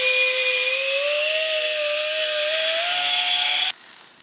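A power drill runs continuously while drilling holes during a build of an ultralight offroad rooftop tent trailer, its loud, steady whine rising slightly in pitch before stopping abruptly near the end.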